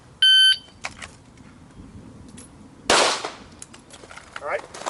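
A shot timer gives a sharp electronic beep to start a pistol draw drill on a range, followed about two seconds later by a single loud pistol shot and fading echo.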